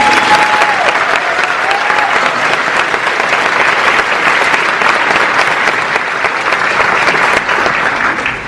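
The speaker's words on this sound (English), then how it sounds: "You can clap for these guys." An audience at a university teacher pinning ceremony gives guests a loud, dense, steady round of applause that carries on without a break, with no talking over it.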